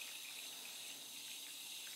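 Water is poured steadily into a container to soak seeds before planting, a faint continuous hiss with no talk.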